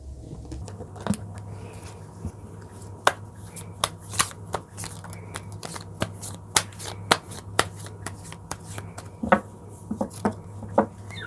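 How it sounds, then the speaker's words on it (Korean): Tarot cards being shuffled and drawn, giving a steady run of crisp card snaps and riffles at close range over a low constant hum, with no talking. "추가로 카드 뽑아보겠습니다."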